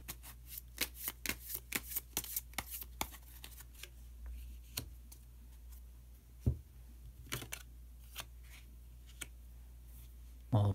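Tarot cards being shuffled and drawn on a quiet surface: a run of quick crisp riffles and slaps, then sparser single card flicks and taps, close and clear with no talking.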